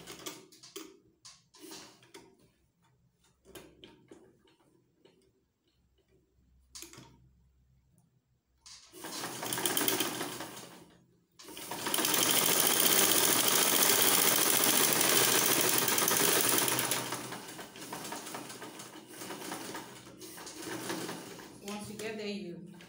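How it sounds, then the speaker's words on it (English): A sewing machine stitches the center line of a side pocket, a close, steady motor whir with a rapid needle rattle in two sustained runs, after quieter handling clicks and a voice speaking between. "And then we're going to sew on the center."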